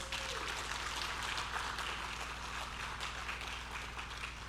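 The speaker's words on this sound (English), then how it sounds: "please give yourselves a round of applause" A crowd applauds steadily, dense clapping sustained throughout at moderate volume with no voices standing out.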